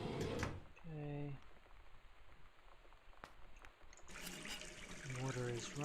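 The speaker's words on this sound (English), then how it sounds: "Water is running." Water running from a tap in the game Gone Home: a soft, steady hissing trickle in the middle, framed by someone talking before and after.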